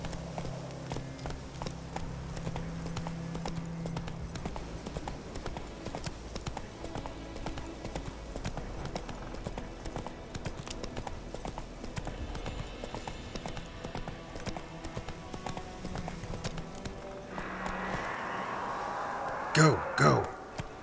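Hooves of the horse Roach galloping in The Witcher 3, a steady rapid clip-clop running under a game soundtrack, with a rider's shouts breaking in near the end.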